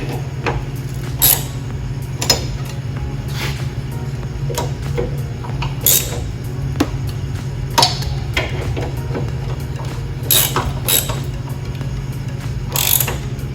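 Ratchet clicks in short bursts as hinge bolts are snugged down on a Jeep JK rear swing-out tire carrier hinge, sharp metallic ticks repeating over a steady low hum, with no talking.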